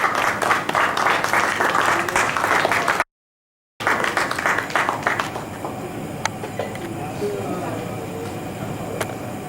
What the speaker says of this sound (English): A big round of applause for Dr. Arvinda